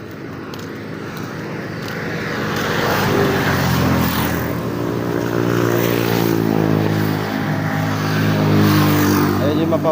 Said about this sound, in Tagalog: Maneho tayo ng jeep.